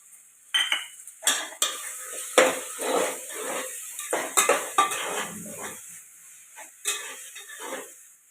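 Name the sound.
green peas being added to a cooking pan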